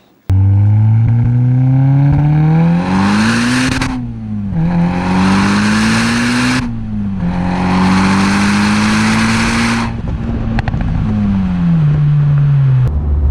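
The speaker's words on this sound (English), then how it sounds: "This car has over 500 horsepower, and I've just started driving it." A built 510whp Volkswagen Golf R accelerates hard from inside the cabin, loud engine note climbing through three long pulls with short breaks at each gear change, then settling into a lower steady drone.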